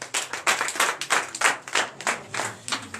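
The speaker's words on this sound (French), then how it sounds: "Veuillez vous asseoir et donner de vives acclamations." Congregation clapping during a Sunday church service in Comè, Benin, with loud rhythmic group claps in regular pulsing bursts, close and without voices.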